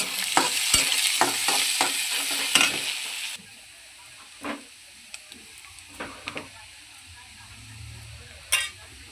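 Onions fry with cumin and green chili in a pan, a loud crackling sizzle with stirring taps that drops off sharply partway through, leaving quieter scrapes and a few isolated clinks.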